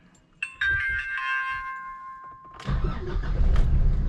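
A 2024 Nissan Navara, just fitted with a new fuel filter, sounds a steady warning chime for about two seconds before its engine cranks once and catches, settling into a loud, close, rumbling idle.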